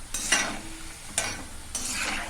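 Breadfruit slices for chips sizzle softly in hot oil while a utensil scrapes and stirs the pan in three brief strokes.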